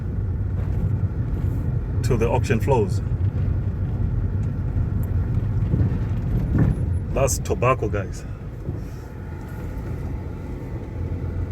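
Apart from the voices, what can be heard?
lorries driving past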